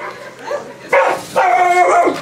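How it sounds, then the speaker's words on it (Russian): A dog at an animal shelter lets out loud, close barks and yips mixed with whimpering, in two bursts after a quieter opening. "Тише, не лай."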